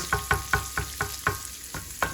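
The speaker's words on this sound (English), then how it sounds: "You can see it's starting to brown up a little bit. My sausage is almost done cooking." Chopped sausage sizzles in a hot pan while a utensil scrapes and stirs it in a steady series of about nine crisp strokes, with constant frying crackle underneath and no talking.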